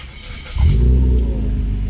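A Suzuki Swift engine, fitted with a new crank sensor, cranks briefly and catches quickly, then settles into a steady, loud, close idle.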